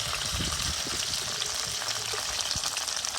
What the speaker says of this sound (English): you hear the signature sound? The sizzle.